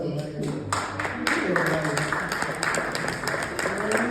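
Comedy club audience applauds, a busy spread of clapping at moderate level with someone talking over it throughout.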